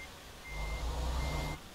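Trucks in a yard in the game American Truck Simulator: a low diesel engine rumble swelling and easing, with a faint steady reversing beep over it and no talk.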